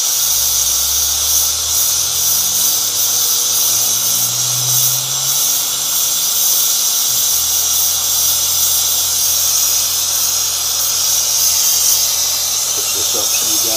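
A torch heating and melting silver gives a constant, loud, breathy roar that stays steady from start to finish, with a low rumbling underneath.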